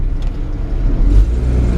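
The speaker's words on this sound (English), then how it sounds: "This truck fires right up." An original 1954 Chevrolet 3100 shortbed barn-find pickup drives along, its engine giving a steady, close, low drone with a brief swell near the end.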